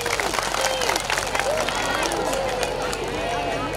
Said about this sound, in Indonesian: Tepuk tangannya buat teman kita ya.